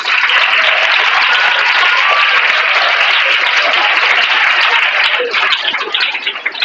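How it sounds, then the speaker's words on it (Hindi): Loud, dense applause from a large crowd at a school cyber crime awareness and science workshop rolls on steadily for several seconds before tapering off at the end. "एक एक छोटा सा जो जोरदार तालियां"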